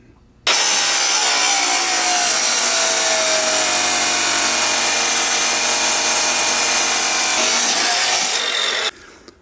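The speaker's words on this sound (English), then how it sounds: "I'm going to put this on a chop saw and cut it so I can weld a different end on it." A chop saw cuts through a metal go-kart exhaust piece, a loud, sustained grinding screech that starts abruptly and holds steady for about eight seconds before stopping.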